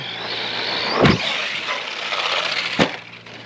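An Arrma Outcast 4s RC monster truck whines and buzzes under throttle, with two sharp thuds of impact and a short motor surge in between.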